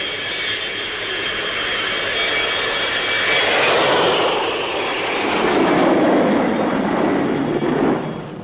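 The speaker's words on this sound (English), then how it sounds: "Another easy handler is the Folland Gnat, a single-seater lightweight designed as an interceptor and strike fighter." A Folland Gnat single-seat lightweight jet fighter flies past at an airshow, its loud jet roar building and sweeping through, peaking mid-pass before fading slightly, with no talk.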